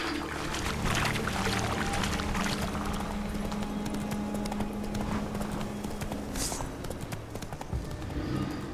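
Roach the horse from Witcher 3 clip-clops steadily through a shallow stream, hooves plodding in a walking rhythm over continuous splashing and rushing water, close and moderately loud.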